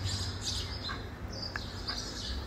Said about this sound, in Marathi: आणि तुम्ही आवाज इथे बघू शकता किती छान असा पक्ष्यांचा आवाज येत आहे.